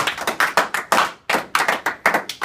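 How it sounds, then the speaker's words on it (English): A few people clap in a classroom-style group, the claps sharp, close and unevenly spaced rather than a full crowd's roar, with short gaps between bursts. "Ready, steady, round of applause, let's go."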